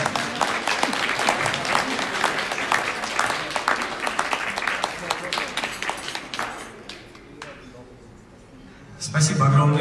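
An audience at a Moscow dog award ceremony breaks into loud, dense applause that runs for several seconds, then thins and fades before a speaker's voice returns at the end.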